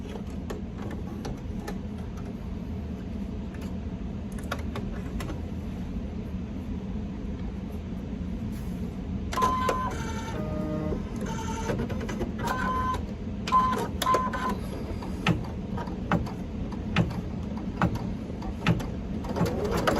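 An embroidery machine stitching appliqué fabric runs as a steady mechanical hum. Partway through it breaks into quick, rhythmic clicking and chattering bursts, fairly close by, with no voices.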